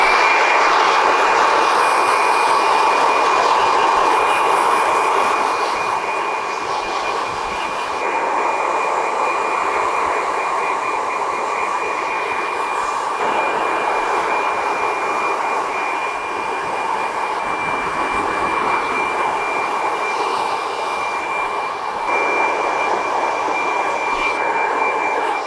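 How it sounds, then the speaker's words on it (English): Hair dryer blowing on a freshly cut textured wispy fringe, a loud continuous whirring roar with a steady high whine, holding nearly constant with slight shifts in tone as it moves. "I'm going to dry this off, do the rest of the texturizing when it's dry."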